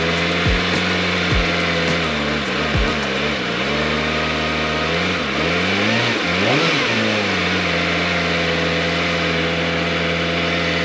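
A Kawasaki ZX25R motorcycle engine in road mode revs up and down in repeated swells, its high-pitched whine rising and falling close by, with wind noise running underneath and no talk.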